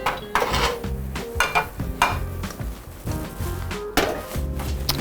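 Metal clanks and knocks as a clean pot and a strainer are handled in a home kitchen during mac and cheese preparation. Close, busy clattering bursts repeat throughout, and no one speaks.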